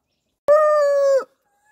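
A young rooster gives one loud, close squawk that lasts under a second, a sharp start followed by a steady tone, with silence before and after it.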